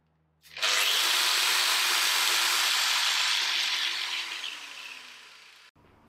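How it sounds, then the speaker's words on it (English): A DeWalt DWE4246 115mm 1200W variable-speed angle grinder with soft start spins up and runs with a loud, steady high-pitched whine, then gradually tapers off before cutting out abruptly. "So when you switch it on, the motor will start slow and build up speed to give you better control."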